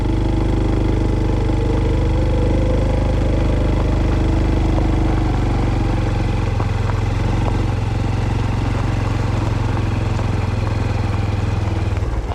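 A Honda Hunter Cub motorcycle climbs a forest trail at Haeundae Arboretum, its small single-cylinder engine droning loud and close, a low steady throb shifting pitch partway through as the rider works uphill.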